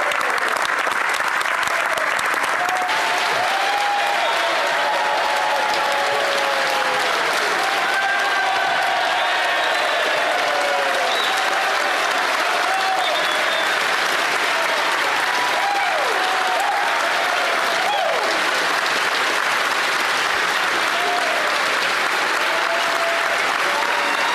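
Sustained applause fills a parliamentary chamber during Question Period, a dense, steady patter of many hands clapping at moderate distance for the whole stretch, with faint murmurs of voices mixed in.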